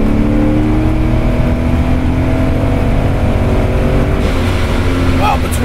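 A 370 wheel-horsepower supercharged Porsche 928S with an automatic gearbox pulling hard under acceleration, a loud, steady engine roar with rising pitch heard from inside the car, with a voice speaking over it.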